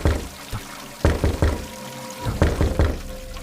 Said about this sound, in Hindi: इस बार दस्तक पहले से भी ज्यादा तेज थी।